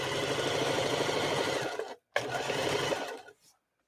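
A Baby Lock sewing machine runs loud and steady, humming and stitching at a constant pace, briefly stopping for a moment and then resuming before winding down to silence.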